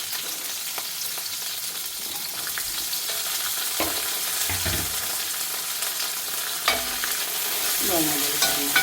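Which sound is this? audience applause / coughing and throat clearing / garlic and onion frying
garlic and onion frying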